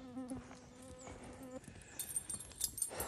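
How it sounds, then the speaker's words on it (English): Mosquitoes on a hot, humid swamp trail: a faint, thin whining buzz that drifts in pitch, with soft rustling and brushing sounds close by. "Mosquitoes."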